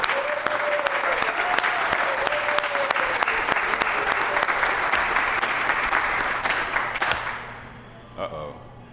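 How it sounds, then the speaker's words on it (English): Audience round of applause at a portrait unveiling ceremony for a former city manager, loud sustained clapping from a room full of people that fades out near the end, with a brief voice and a few claps after. "So can I get a round of applause for Pat Monahan?"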